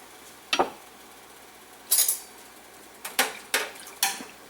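Gumbo ingredients being stirred in a pot in a home kitchen: a spoon scrapes and clinks against the pot in about five separate sharp knocks, with quiet gaps in between.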